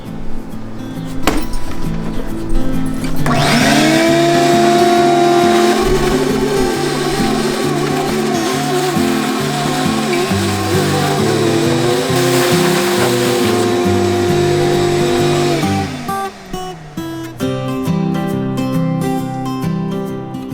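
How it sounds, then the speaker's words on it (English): An outdoor workbench crack gets cleaned by a shop vac, which switches on with a loud rising whine that holds steady and close for about twelve seconds, its pitch dipping under suction changes before winding down, with clinks before and after. "I want to see what I can do about this crack in the middle, going all the way down. So, got my shop vac"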